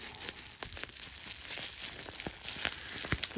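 An ADV Tactical Ronin Integral folding knife slices through plastic packaging, giving close, steady crinkling and crackling with short tearing bursts and no talk.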